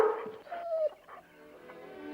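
A dog, Lassie, gives short barks and high whimpers, a few close, clear yelps and whines tapering off over a couple of seconds with no talking.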